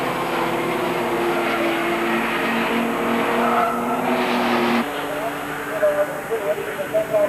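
Porsche race cars from the 1989 BF Goodrich Porsche Club GB Championship roar past with engines droning and tires squealing, loud and continuous beneath a commentator's voice.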